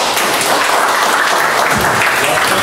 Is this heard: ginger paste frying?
no